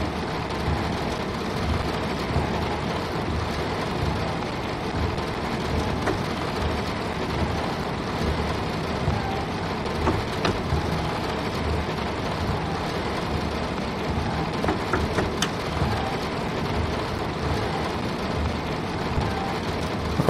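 Rain drums on the roof of a train cab on the Seaford to Brighton line in Train Sim World 2, a steady even patter over a low engine rumble that continues without a break.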